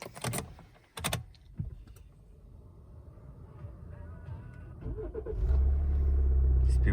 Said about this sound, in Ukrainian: Так, заведемо автомобіль.